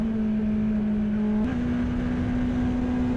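A 2018 Kawasaki Z900 motorcycle engine holds a steady, loud idle drone up close, with a small blip in revs partway through and no voices.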